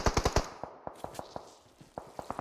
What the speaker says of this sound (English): Silent Nems pushing or throwing shots down